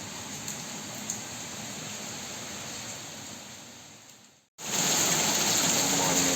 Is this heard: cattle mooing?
no